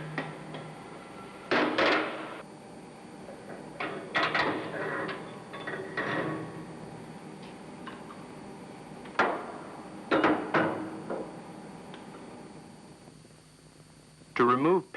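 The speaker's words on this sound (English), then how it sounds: "tap it lightly with a tin hammer." Several sharp metallic taps of a tin hammer on a starting air valve spindle from a K 90 GF marine engine, in small clusters, some single and some in quick pairs, close by, against a low steady hum.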